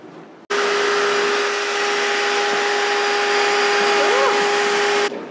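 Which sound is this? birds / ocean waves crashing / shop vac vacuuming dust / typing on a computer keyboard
shop vac vacuuming dust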